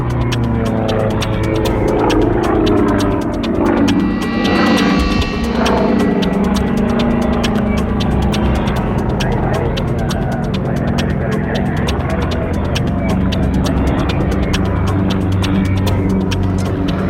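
A Russian-built Sukhoi Su-31 aerobatic plane performs at an air show, its engine a steady, loud, droning hum with throbbing overtones that persists throughout.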